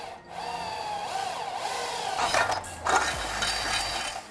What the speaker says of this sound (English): Mark the center of your front spring perch and drill a 5/16 hole.